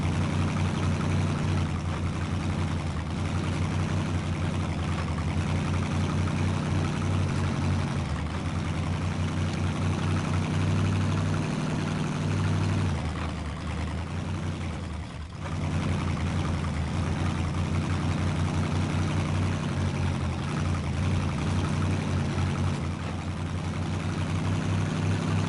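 A video game vehicle engine hums at a steady low idle, a continuous close rumble with a slight dip midway and no talk over it.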